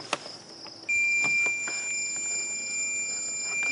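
Multimeter beeping steadily during a continuity test on a Honda Rancher shift cable, one long continuous tone after a few faint clicks, close and alone.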